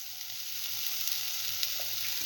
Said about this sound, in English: put in the eggplant piece